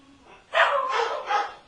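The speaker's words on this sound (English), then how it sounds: "uh-oh, dogs here or something." A dog barks somewhere nearby, a short burst of two or three yapping barks after a brief quiet lead-in, moderately loud against a quiet background.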